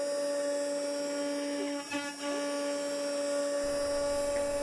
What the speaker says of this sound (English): so I will do it with the ball nose end mill